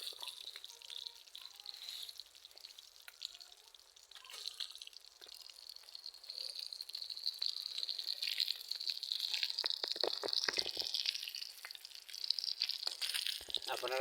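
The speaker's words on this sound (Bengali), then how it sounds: "আপনারা দেখতে থাকেন কীভাবে তেলাপিয়া মাছ ভাজি করা হচ্ছে, ফ্রাই করা হচ্ছে।" Tilapia fish frying in hot oil, a steady hissing sizzle with crackles and popping that builds louder over the stretch, with faint talk in the background.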